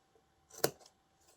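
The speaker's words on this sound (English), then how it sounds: "I'm going to cut it at this angle there" A single crisp snip of scissors cutting paper at an angle for a collage, one short loud cut standing alone in a quiet room with a faint rustle of paper after it.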